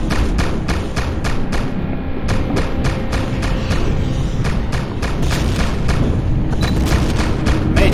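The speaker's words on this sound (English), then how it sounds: "Man, you shot that thing right out of the sky." Turret gunfire in the HEDON video game, a dense run of rapid booming shots and thuds repeating steadily and loudly for the whole stretch.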